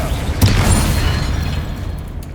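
A Confringo fire spell exploding in the video game Hogwarts Legacy, heard as one loud boom with a low rumbling burst. It then fades into a crackling, decaying roar over about two seconds.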